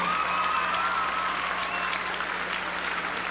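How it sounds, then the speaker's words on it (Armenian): A large audience claps steadily and densely at an Armenian awards ceremony, a loud, continuous wash of applause with no voices standing out. "խնդրում եմ ծափարենք բոլորի համար"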